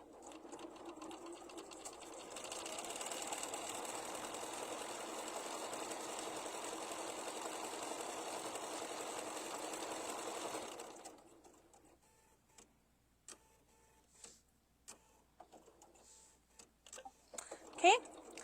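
A sewing machine stitching over a fabric raw edge runs in a steady close whir for about eight seconds, then stops, followed by scattered clicks and light handling sounds.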